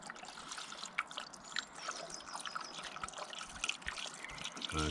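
Coolant trickles and dribbles from the engine of an E34 Alpina B10 3.5 during a water pump change, a faint irregular splashing stream at close range with small drips throughout.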